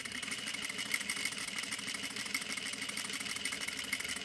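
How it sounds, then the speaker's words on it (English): A sewing machine runs continuously at a steady pace while stitching a straight line, with a fast, even mechanical whir that stays constant and close throughout. "I'm going to put the needle down, and then I'm going to go ahead and sew"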